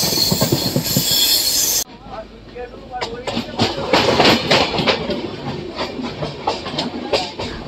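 An LHB passenger train rushes past alongside a moving Janmabhoomi Superfast Express, loud and close, with rhythmic clickety-clack of wheels over rail joints and squealing metal after a sharp drop from an initial roar.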